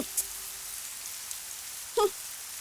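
Rain falls steadily as an even, soft hiss of drops throughout, with a faint short voice sound near the end.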